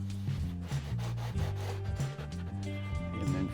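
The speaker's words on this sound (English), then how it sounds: "Simply get some masking tape and run it right along" Masking tape is pulled and pressed along the cork roadbed of a model railroad layout, giving a close, quiet sequence of sticky rubbing and squeaky, stuttering peeling sounds with no voices.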